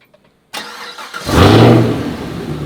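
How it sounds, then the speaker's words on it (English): A Chevrolet Camaro ZL1 engine cranks after a quiet moment and catches with a loud, close roar, then settles into a deep, steady idle. "When you start the car"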